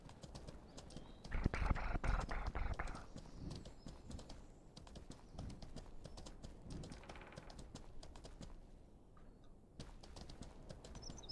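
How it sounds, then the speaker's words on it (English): Horse hooves trot in an even clip-clop rhythm behind the player in Mortal Online 2, clear and close, with a louder burst of stomping early on and softer steps after. "Funny hearing him trot behind me. Little stompy."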